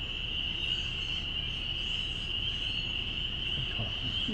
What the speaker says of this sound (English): Peepers!